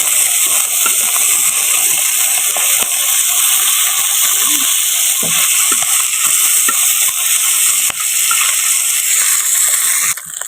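Small puti fish fry in a frying pan, filling the air with a loud, unbroken hissing sizzle and occasional spits and scrapes, heard close and without voices.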